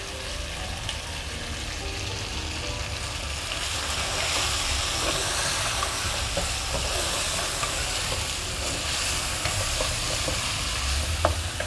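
Mutton karahi with black pepper fries over a high flame in a karahi, a continuous loud sizzle and hiss with scraping stir strokes throughout, no voices.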